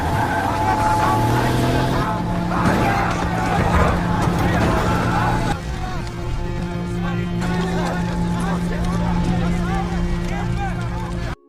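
A military truck in a war film scene careens and overturns, with loud engine roar, skidding and scraping clatter; a voice talks over it throughout.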